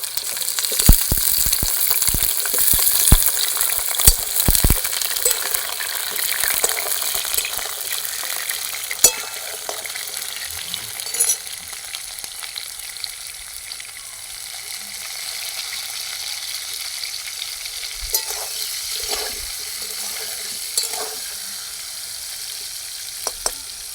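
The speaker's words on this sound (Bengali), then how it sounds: "আলুগুলো ভেজে নেবো ভালো করে, লাল লাল করে।" Large chunks of potato frying in hot oil in a home kitchen, a steady crackling sizzle with occasional stirring clatter and a few sharper pops early on, close and continuous with no talking.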